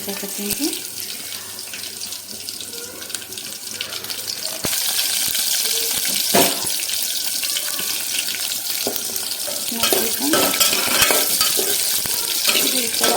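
Ingredients for a drumstick and lentil sambar fry in a pan, a hissing sizzle that jumps louder partway through as more goes in, with scattered clinks and scrapes of stirring.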